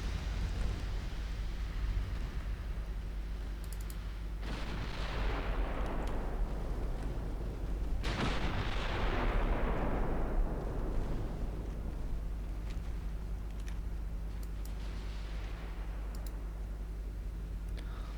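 Naval cruiser and battleship gunfire in the Ultimate Admiral Dreadnoughts video game booms as distant heavy salvos, two big blasts with long rumbling decays over a steady low engine-like drone, plus faint clicks.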